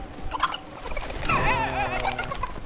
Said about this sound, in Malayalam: ആളല്ല, കോഴിയാ അത്.